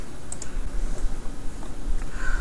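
A few quick, light computer mouse clicks, sharp and close, set against a faint steady background hum.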